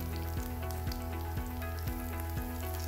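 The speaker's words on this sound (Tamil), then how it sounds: "நீங்கள் ஒரு 2 நிமிஷம் வந்து 2 சைடும் வறுத்த திருப்பி போட்டு வறுத்திங்கன்னா போதும்" Veg fish fry pieces frying in oil in a studio kitchen pan give a steady, dense sizzle with a regular pulsing rhythm and no talk.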